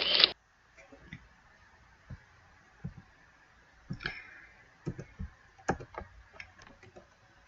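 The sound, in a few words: mouse clicking while presenting PowerPoint slides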